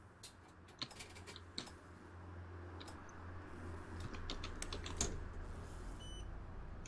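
Computer keyboard typing at a home desk, a steady run of close, crisp key clicks with a few louder taps, heard alone over a low background hum.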